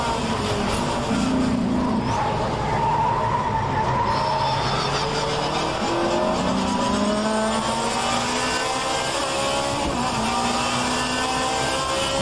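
An Alfa 155 race car in the rFactor 2 sim game revs hard and shifts through the gears, with a rising and falling engine note over skidding and tire squeal. The sound is loud and continuous, with no talking.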